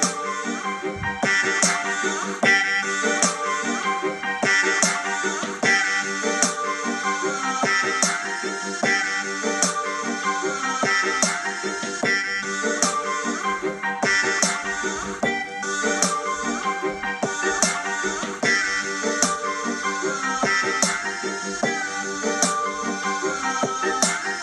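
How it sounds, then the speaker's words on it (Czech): Dense electronic music track with sustained synthesizer pad layers under rhythmic percussive hits, steady and loud throughout with no voices. "tak jsem to přidal takové syntetizátorské pas zvuky"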